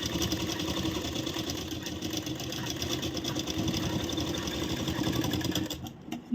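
A sewing machine stitches the lining of a designer blouse, running in a steady, continuous whir close by for several seconds before stopping abruptly near the end.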